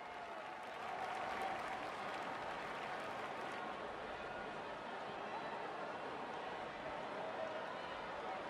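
Stadium crowd applause in a cricket video game, India versus New Zealand: a sustained, even roar of clapping and cheering heard from a distance, running steadily throughout under a commentator's voice.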